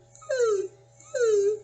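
A dog whimpering in two drawn-out, falling whines, each about a third of a second long and separated by a short pause, close and clear over a steady low hum.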